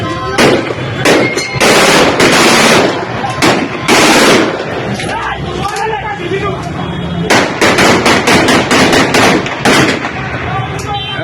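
Gunfire rings out during a street clash between rival party workers in Gujrat, Pakistan, with loud, close bursts of rapid shots in clusters and gaps, while voices shout between and under the firing.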